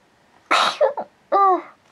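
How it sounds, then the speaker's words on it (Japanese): A single sharp sneeze, close and loud, with a quick two-part burst followed by a short voiced tail after a brief pause. "すいません、くしゃみ出ました。"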